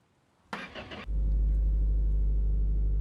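A car engine in the video game My Garage cranks briefly and then catches after a rebuild, settling into a loud, steady low idle.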